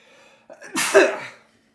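A single sharp sneeze with a quick intake of breath before it, close and fairly loud, then silence.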